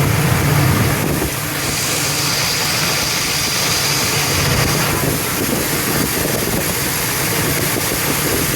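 A 1987 Blazer engine with a loose spark plug idles steadily and close by, a continuous broadband rumble that holds level with no talk over it.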